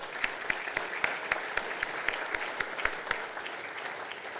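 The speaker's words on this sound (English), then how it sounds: "So a round of applause for that as well" Steady audience applause at a business hall of fame event, with distinct individual claps forming a regular, fairly loud rhythm throughout.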